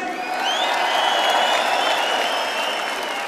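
Concert crowd in a large arena applauds a band, a dense, even wash of clapping with a few whistles and cheers.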